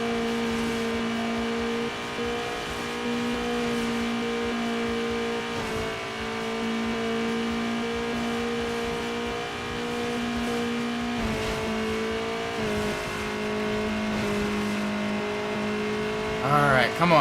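A 4-cylinder race car engine in Need For Speed Underground Rivals holds a steady, buzzy high drone through a long stretch, with brief dips at gear changes and a short squeal at the end. Light talk sits faintly beneath it.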